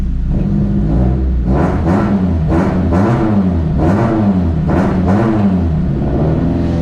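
A Honda K-series car engine with a new exhaust revs repeatedly in quick bursts, rising and falling, with a deep throaty exhaust rumble, close and loud.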